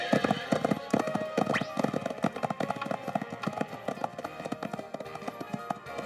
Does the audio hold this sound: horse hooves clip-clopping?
yes